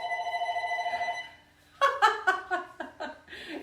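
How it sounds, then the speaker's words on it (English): A home telephone rings with a steady warbling trill for about a second and a half, then stops, followed by close chuckling and laughter. "my telephone that never rings is ringing right now"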